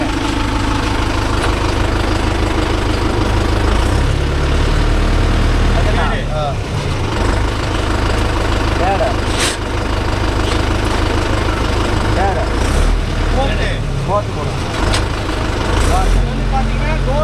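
A Mahindra Yuvo Tech Plus 585 4WD tractor engine runs loud and close with a steady, heavy diesel drone after the clutch is let out, while people talk over it.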